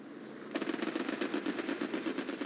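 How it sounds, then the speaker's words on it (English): Sustained machine-gun fire from a strafing run in a combat video game opens abruptly and rattles on in a dense, rapid stream, loud and continuous. "So it's a strafing run."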